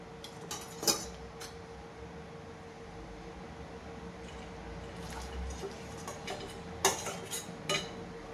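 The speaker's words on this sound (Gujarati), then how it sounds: "બાજરીનો રોટલો એડ કરી દીધો છે તો હલાવી દઈશું." Bajra rotla is stirred into buttermilk tempering in a pan: metal spoon clinks and scrapes against the pan, a few sharp knocks clustered near the start and end, over a steady low background hum.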